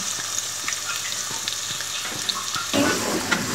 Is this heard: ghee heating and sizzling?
yes